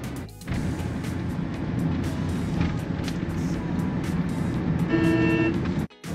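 A taxi driving in traffic on Western Express Highway produces a steady, close engine and road drone, with a horn-like tone near the end and a brief dropout just before it closes.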